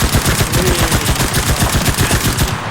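Sustained automatic gunfire from a weapon in the shooter game Enlisted, rapid evenly spaced shots rattling loud and close for nearly three seconds with no talking, cutting off abruptly at the end.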